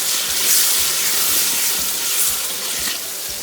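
Water poured into onions frying in a pan for a spicy Gambian fish stew, producing a loud, close, continuous hiss and sizzle of steam with faint bubbling underneath.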